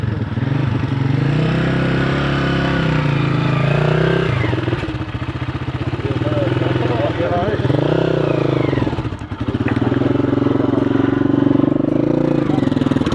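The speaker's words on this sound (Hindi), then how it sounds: "बंद कर देना मोटरसाइकिल" A motorcycle engine runs steadily at close range, its low rumble loud and continuous, with a brief dip midway. The setting is a winter trip near the Lowari Tunnel. People talk over the engine throughout.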